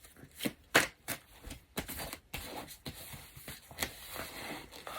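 Tarot cards being shuffled by hand close up: a series of crisp riffling snaps and soft slides in an irregular rhythm.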